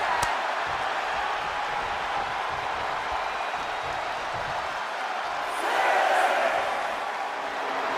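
A wrestling arena crowd in the WWE 2K25 video game keeps up a steady distant roar and murmur that swells slightly near the end.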